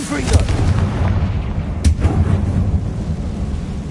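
A Confringo spell explosion in the Hogwarts Legacy video game: a loud, sustained rumbling boom with a sharp crack partway through, over dense game background noise.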